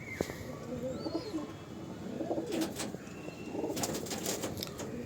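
Pigeons in a loft cooing softly in low repeated murmurs, with occasional wing flaps and faint chirps over a steady background hum.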